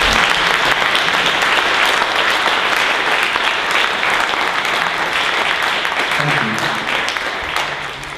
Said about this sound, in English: Please give a big round of applause for Joe Glenton.